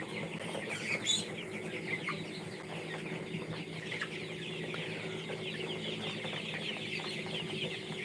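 Chickens clucking steadily on a poultry farm in Nabinagar, Brahmanbaria, with overlapping hen calls and occasional higher squawks against a constant barn hum, no talk.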